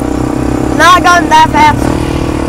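Honda 300EX ATV engine running in second gear at an easy pace, a steady low drone with a rise in revs midway, heard under someone talking throughout.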